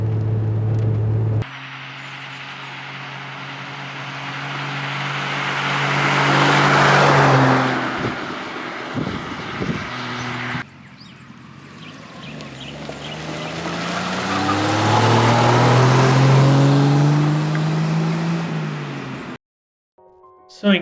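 A 1930s Rover saloon car driving on a bumpy country road, steady engine drone rising and falling through gear changes with a cut partway, heard from inside, loud and continuous with no voices.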